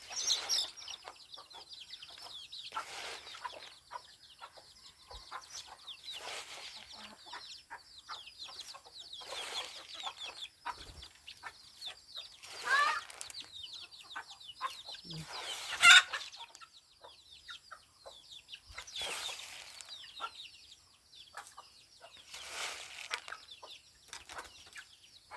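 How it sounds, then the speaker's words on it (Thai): Chickens on a farm cluck and call all the time at close to mid distance, with bursts of sharper squawks and some wing flapping and no talk. "ไก่"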